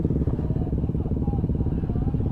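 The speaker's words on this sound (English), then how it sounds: "It's a big group of bikes here." A big group of motorcycles rides past in the Simpson Desert, giving a loud, continuous, throbbing engine drone with a low rumble that holds steady throughout.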